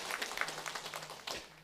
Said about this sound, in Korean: 우리 축복하는 마음으로 박수 한번 하겠습니다